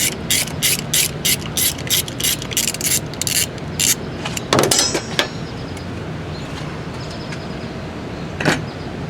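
A hand ratchet loosening the starter bolts on a 2002 Mitsubishi Lancer, a quick run of loud, rapid clicking strokes followed by a few sparse clicks and clanks, close up.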